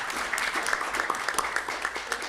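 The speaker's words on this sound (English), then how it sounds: "give her a round of applause" Applause from the audience at a school board open session, a dense steady crowd clapping for a speaker with a faint voice or two mixed in.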